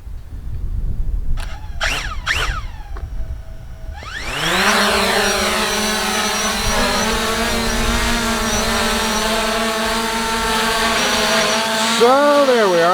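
A Fimi X8 SE drone spins up its rotors and lifts off, a few short whirring starts before settling into a loud, steady, high-pitched propeller whine, with pitch shifting near the end.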